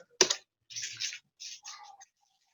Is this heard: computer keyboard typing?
yes